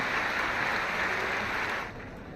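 Applause from an audience at a Delhi ceremony where nursing officers of Lok Nayak Hospital receive appointment letters, a dense sustained clapping wash that drops off abruptly near the end.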